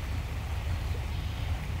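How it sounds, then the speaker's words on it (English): Water lapping at the shore of Willow Point, running high after a windy day, makes a steady, close, low rumbling wash with no distinct splashes and no voices. "I love the water noises."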